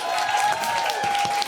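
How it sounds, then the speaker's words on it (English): A studio audience at a live comedy show claps in a short, dense burst of applause, with a steady tone running underneath throughout. "Let's give it up for applause"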